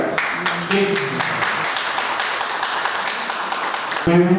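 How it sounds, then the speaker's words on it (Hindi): Audience applause welcoming guests onto the stage at an industrial convention felicitation, a steady field of many hands clapping, with a voice breaking in near the end. "जोरदार तालियों से आपका स्वागत"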